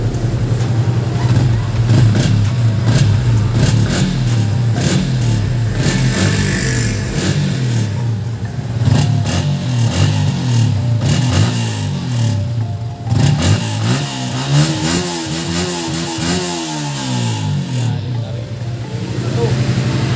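Yamaha Sniper 155 motorcycle fitted with a UMA Racing exhaust pipe on a stock ECU, its engine revving up and down through a loud buzzing exhaust note, with people talking over and around it.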